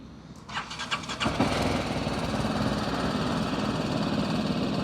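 A 2022 BMW G310GS 40th Anniversary Edition motorcycle engine cranks briefly with a few sputters, then catches and settles into a steady, close, fairly loud idle that runs to the end without talk.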